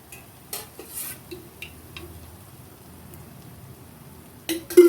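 Tomato rice is stirred and sautéed in oil in a pan, with soft scraping and light clinks of a spoon against metal over a faint background, ending in a louder clatter.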